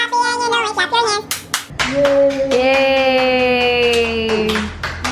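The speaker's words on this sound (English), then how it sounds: "If you're happy and you know it, clap your hands." Hands clap along to a sung children's song, with sharp claps mixed into a bright melody and voices singing.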